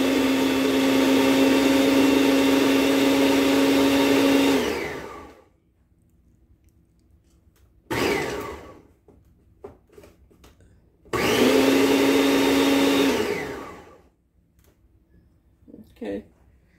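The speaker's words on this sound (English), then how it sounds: "Y'all have to excuse my old food processor. It's got a lot of miles on it." An old, well-worn food processor whirs loudly while chopping sofrito ingredients, running in two long bursts separated by a short pulse, with quiet clicks and handling noises in the pauses.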